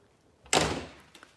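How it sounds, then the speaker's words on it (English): A door swung shut in a chilly room lands with a single close, solid thump, a broad burst that decays over about half a second, followed by faint small rattles; no talking. "Just going to close this door."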